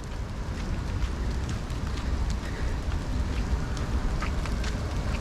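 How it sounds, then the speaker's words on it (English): Heavy rain falling outside, a dense, steady wash of patter that stays loud and unbroken throughout, with no voices. "it's raining even more."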